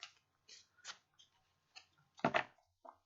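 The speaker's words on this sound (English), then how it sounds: "I'm going to shuffle a little bit more." A deck of tarot cards being shuffled by hand at close range, heard as a few brief papery riffles and taps separated by short pauses, with a louder burst of rapid card flutter near the end.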